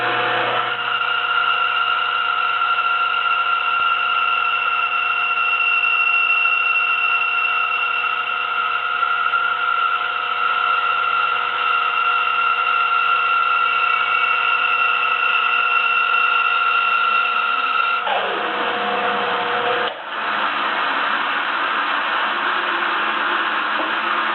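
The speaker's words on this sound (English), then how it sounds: "I'm going to cut it in half on the bandsaw, much better than cutting it chop saw." Bandsaw cutting a wooden block in half, a loud steady whine with sustained tonal hum that shifts near the end as the blade finishes the cut.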